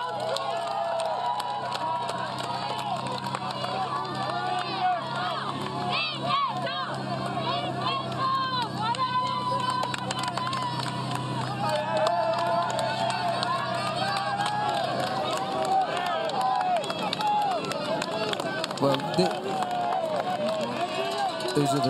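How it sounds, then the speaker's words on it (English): Large roadside crowd on top of the Col de Fer during a Tour de France mountain stage, a continuous dense roar of cheering, shouting and babble that holds steady and loud throughout. "Always big crowds on top of the Col de Fer."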